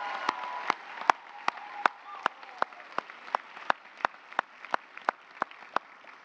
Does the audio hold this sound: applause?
yes